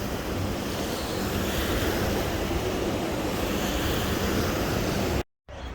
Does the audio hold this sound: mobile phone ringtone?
no